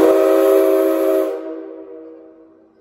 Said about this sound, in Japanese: ただいま大きな音で鳴り響いた汽笛は機関車からさまざまな合図を出したり